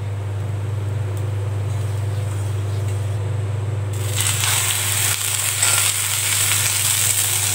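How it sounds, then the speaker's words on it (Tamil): Oil hits a hot griddle for bread toast. A low steady hum plays alone at first, then a bright, close sizzle bursts in halfway through and keeps going. "இப்போ நான் வந்து இன்னைக்கு எண்ணெய் சேர்த்துக்கிறேன்."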